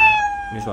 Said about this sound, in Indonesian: kucing nih ya, kalau kita putar meow gitu kan.